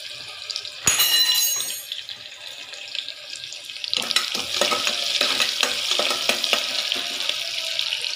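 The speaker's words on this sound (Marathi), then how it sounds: "तर आपल्याला हा कांदा थोडा लालसर व्यवस्थित होऊ द्यायचा आहे।" Onion frying and being stirred in a pan for vegetable masala rice, a loud sizzle with clattering stirring strokes, a sharp burst near the start and busier scraping in the second half, with no voices.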